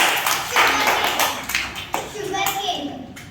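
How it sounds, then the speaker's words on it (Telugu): Schoolchildren in a classroom clap in short bursts of applause, loud and close, mixed with children's voices and a few sharp hand taps. "క్లాప్స్ క్లాప్స్ ఇవ్వండి"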